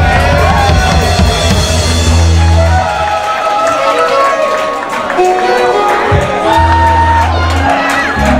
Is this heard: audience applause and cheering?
yes